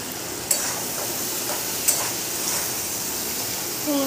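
Pumpkin and ridge gourd sizzle as they fry in a pan, a continuous even hiss broken by a couple of sharp clinks of stirring, close and with no voices.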